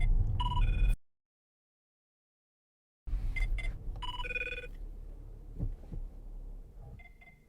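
A telephone rings loudly inside a 2014 Audi Q7 3.0 TDI S line, an electronic ring in bursts, cut by a two-second silence, then ringing again with muffled rustling and faint thumps.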